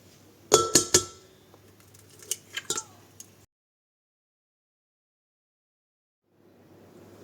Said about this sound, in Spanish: en el bol de la batidora vamos a cascar 6 huevos grandes que tengo aquí